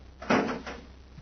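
A door on a miniature spaceship shuts as a radio drama effect, giving a single muffled thud with a brief rattle, close and moderate, alone.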